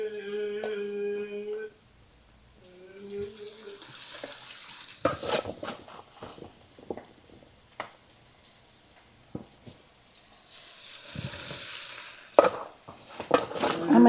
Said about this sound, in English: Who's got time to stand here and fry all this one little circle at a time?